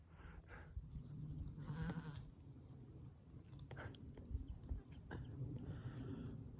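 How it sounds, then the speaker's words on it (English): Sheep in an open field on the River Great Ouse countryside, scattered bleats and chewing sounds near and far over a soft outdoor background with occasional birdsong. "I am surrounded by sheep"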